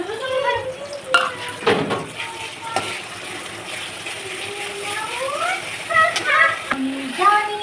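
Ginger, garlic and green chilli paste fries in a pan at home over a steady low sizzle, with clattering utensil scrapes and clicks, while people talk close by.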